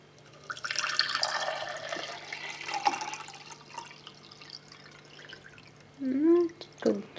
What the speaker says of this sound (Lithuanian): dabar, manau, įsipilsiu Brita vandens